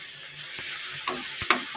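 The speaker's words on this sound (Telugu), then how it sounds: "ఆనియన్స్ అనేది కొద్దిగా వేగనివ్వాలి." Onions fry in hot oil with mint, coriander and curry leaves for an egg curry, a steady close sizzle with a few stirring scrapes from a spoon and no talk.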